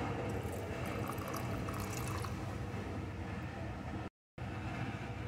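Water trickles into a bowl of semolina and sour yogurt batter in a faint, steady, continuous pour, broken by a brief gap near the end.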